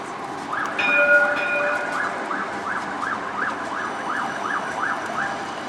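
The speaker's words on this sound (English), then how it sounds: "tram coming up George Street." A bendy light rail tram on George Street in Sydney sounds its warning: a repeating two-tone chime cycles steadily at medium distance over busy street noise, with a brief whistle-like tone early on.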